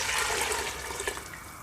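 Water pours steadily into a cooking pot for chickpea rice (chana pulao) after the ghee-roasted mixture, with a dense splashing gush throughout the short stretch and no talking.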